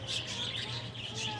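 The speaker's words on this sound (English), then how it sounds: "guess those are parakeets or something. They're making a bunch of noise." Parakeets at a zoo chirp in a busy flock, high twittering calls rising and falling over a low background hum, moderately distant and fairly faint.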